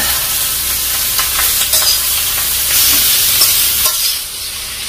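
Pork skin for chicharon stirred in a pot, continuous loud sizzling and bubbling with repeated scraping strokes of a spoon, no voices.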